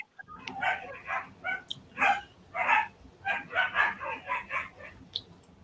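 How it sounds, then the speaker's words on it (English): Puppies yap and bark in quick, repeated high-pitched bursts while wrestling with each other, close by and fairly loud. "Oh, I can hear the puppies."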